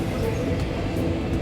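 A toy train ride in a shopping mall rumbles along with a steady, close, continuous mechanical drone, without clear breaks or distinct clacks.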